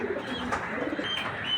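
A light-coloured Mili pigeon coos softly in a loft or market setting, a low murmuring call repeating under steady background ambience, with no talk.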